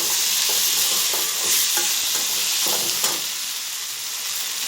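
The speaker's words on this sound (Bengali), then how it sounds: "ভেজে নেব, পেঁয়াজগুলোকে একটু ভেজে নিচ্ছি" Onions fry in a pan with turmeric and salt, a loud continuous sizzle broken by repeated scraping stirs, alone without voices.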